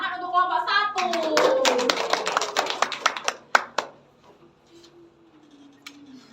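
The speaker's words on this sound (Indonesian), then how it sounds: "Kita beri apresiasi, tepuk tangan untuk kelompok 1." Classroom clapping rings out for a student group after a presentation, a burst of many hands lasting a few seconds under a teacher's voice, then tapering into scattered claps and quiet.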